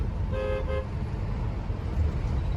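A car horn gives two quick toots at a rickshaw in busy town traffic, heard over a steady engine and road rumble from inside the vehicle.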